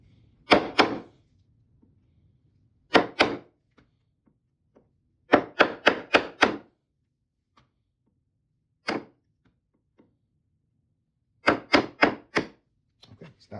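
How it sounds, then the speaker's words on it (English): A chisel chops straight down into wooden dovetail pins in several close, sharp bursts of rapid thunks, some single knocks and others quick runs of four or five, with silent pauses between them. "You can just chisel straight down, and there's almost no pressure to overcome because there's nothing supporting that baseline."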